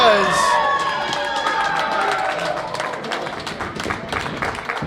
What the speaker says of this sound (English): Crowd liking what they see here.